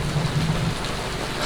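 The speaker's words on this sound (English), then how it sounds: "The rain is coming down today." Rain comes down in a steady, full hiss of drops striking surfaces outdoors near an abandoned camper, continuous and fairly loud with no voices.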